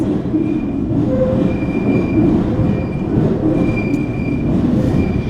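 A London Underground train at Elephant & Castle station rumbles steadily along the tracks with faint wheel squeals and high metallic whines, a continuous loud roar with no talking.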